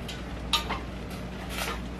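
A utensil stirs seasoned food, peppered with black pepper, around a pan in a home kitchen, making a few soft scrapes and light clinks over a low, steady hum.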